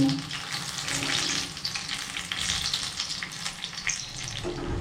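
Food for a snack recipe fries in oil in a pan, a soft uneven sizzle with some wet bubbling and occasional handling noises, fairly quiet and with no talking.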